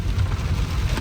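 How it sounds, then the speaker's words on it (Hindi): Heavy rain pours down while driving into Dehradun, a dense, steady roaring hiss that fills the short moment without any voices. "देहरादून पहुंचते ही खूब तेज़ बारिश स्टार्ट हो गई है।"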